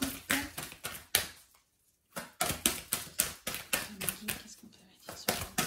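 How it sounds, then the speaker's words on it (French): Tarot cards dealt one after another onto a table during a reading, giving a run of sharp slapping taps in close succession, with a brief pause before the dealing resumes. "vous entendez les cartes tomber"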